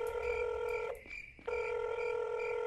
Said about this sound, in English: So we have a phone in this game. We can call people.